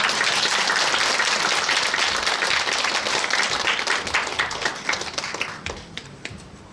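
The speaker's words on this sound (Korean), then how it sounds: "박수로 환영해 주십시오" An audience at a Buddhist dharma service applauds to welcome a play, dense clapping from many hands that gradually thins into scattered claps before fading.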